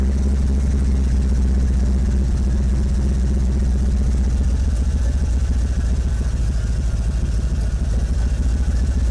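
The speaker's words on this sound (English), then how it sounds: "It idles a little different on its own." A Chevrolet El Camino G-body idles steadily at close range, its low, even engine rumble holding for the whole stretch with no voices.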